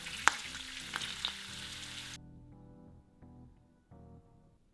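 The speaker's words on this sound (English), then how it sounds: "We're going to fry a little bit of chilies and makrut lime leaves" Chilies and makrut lime leaves fry in a pan, a soft sizzle with a few sharp crackles and pops early on that fades to a quiet, steady background as the frying settles.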